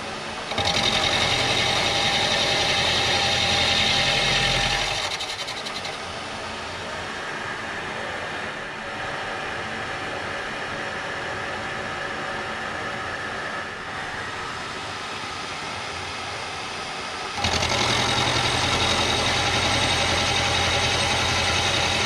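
A milling machine cutting a 383 stroker engine block with a steady whirring, grinding drone. It runs loud at first, drops to a quieter cut for about twelve seconds, then returns to full level, with no talking.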